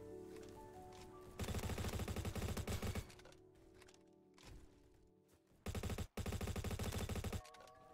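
Honey Badger rifle gunfire in the Bad Business video game, two long loud bursts of rapid automatic fire with a few shorter shots between, heard close and without talk.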